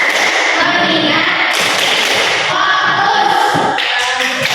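Schoolchildren in a class doing the rhythmic tepuk fokus clap, a run of firm claps and slaps layered under loud collective chanting, near and continuous.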